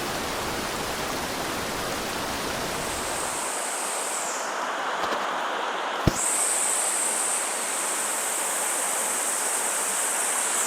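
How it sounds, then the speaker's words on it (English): The Roe River pours into the Missouri River at Giant Spring with a steady, broadband rush that holds unbroken throughout, marked only by a single sharp click near the end. "Here we are at Giant Spring along the banks of the Missouri River. On our left here is one of the shortest rivers in America, the Roe River, flowing into the longest river in America"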